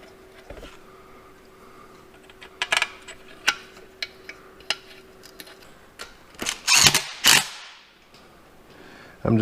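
Work on a ZF transmission repair, with scattered sharp metallic clicks and clanks and a few louder bursts near the end, close by and with no voices. The tool is a 3/8 drive wrench tightening transmission bolts.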